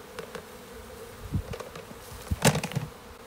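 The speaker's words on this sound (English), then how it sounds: "Now the bees are in here." Honey bees buzz closely and unevenly inside a Varroa mite testing container, with a few louder bumps and rustles, no voices.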